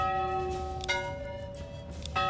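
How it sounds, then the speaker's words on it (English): In the Manor Lords video game, a church bell rings with a sustained, resonant tone, a couple of fresh strikes standing out over a soft, steady game ambience and no speech. "you can change your church bell sounds"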